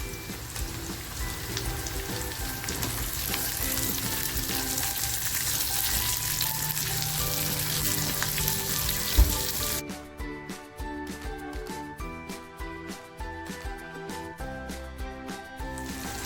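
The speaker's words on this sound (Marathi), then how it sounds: "कांदा साधारण लाल झालेला आहे खोबरं टाकते आणि टॅमॅटो सुद्धा टाकते आहे" Onion, grated coconut and tomato frying together in a pan for a Maharashtrian kaju matar curry, giving a steady dense sizzle throughout with a brief clatter midway, and no talking.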